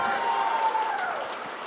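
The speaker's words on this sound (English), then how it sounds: "give Derek a big round of applause" Audience applause at a stand-up comedy show, a short steady burst of crowd clapping and cheering that tapers slightly, with faint voices mixed in.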